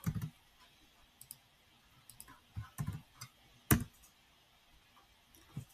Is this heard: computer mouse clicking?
yes